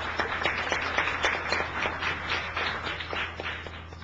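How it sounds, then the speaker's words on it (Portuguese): Seminar attendees welcome a speaker with steady, moderate applause, an even wash of many hands clapping at once over a low hum in the room. "Bienvenida, un aplauso para María Pía."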